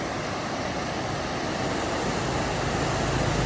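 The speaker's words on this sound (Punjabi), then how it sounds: "ਦੇਖੋ ਕਿੰਨਾ ਸ਼ੋਰ ਕਰਦੀ ਨਦੀ" Steady, broadband roar of a rushing mountain river on the Hemkund Sahib trek, constant and loud throughout, close by.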